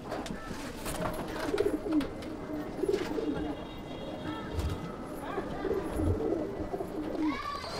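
Pigeons coo softly in a loft, a few low burbling calls repeating at intervals under nearby talk, with faint shuffling and rustling.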